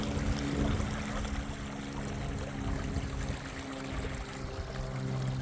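Water trickling in East Beaver Creek running low, with woody debris across the creek bed; a steady, close, continuous burble and wash with no voices.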